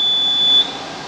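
A triaxial test machine gives a sharp, high electronic beep at the end of its countdown, a steady tone held for about half a second and then cut off, heard alone.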